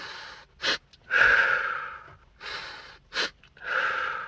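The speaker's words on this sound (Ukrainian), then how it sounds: "Далі робиш повний вдох, і в кінці додаєш ще один, дуже, типа, повністю наповниш свої груди." Slow, deep breaths taken as an anxiety and stress relief breathing exercise: close, airy inhales and exhales in a repeating cycle, with a couple of sharp quick intakes topping up a full breath.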